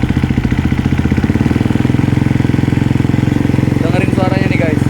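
A 2017 Husqvarna FE 350 motorcycle idles close by with a steady, rapid single-cylinder thump, loud and even throughout, with brief voices in the background.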